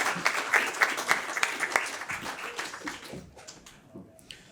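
An audience applauds at a military induction ceremony, with dense clapping that fills the room, then thins and fades to a few scattered claps.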